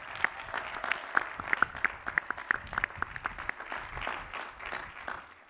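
Audience applause at a graduate commencement ceremony for the 2021 Doctors of Education and Doctors of Philosophy, a steady wash of many hands clapping in a large hall with a few sharper individual claps standing out, moderately distant.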